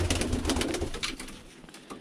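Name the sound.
Birmingham Roller pigeon cooing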